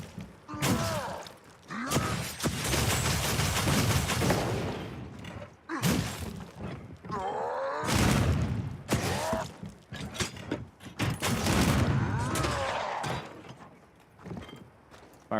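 Gunlance fire burst combo in Monster Hunter Wilds, a string of heavy thudding blasts and grinding mechanical clanks in several loud surges with short gaps between them.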